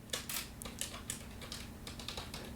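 Quiet, rapid clatter of fingers typing on a computer keyboard, irregular clusters of keystrokes in a soft, close-up run with no talk.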